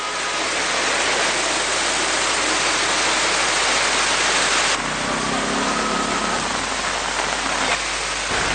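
Steady heavy rain in Ampara, Sri Lanka, a dense continuous roar of falling water that stays loud and unbroken throughout, with a faint engine-like rumble underneath.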